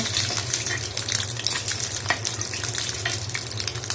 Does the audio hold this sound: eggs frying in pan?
yes